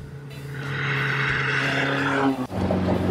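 A Lotus X1 sports car's engine sounds steadily while driving, a loud, close, continuous drone with rising revs that drops off briefly near the end before resuming.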